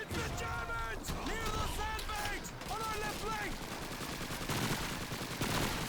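Rapid machine gun bursts in the World War II shooter Call of Duty 2, loud and close, with game voices shouting over the firing.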